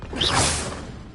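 Confringo spell cast in the video game Hogwarts Legacy, a single quick whooshing swish that rises and fades within about a second, close and clear with no talk.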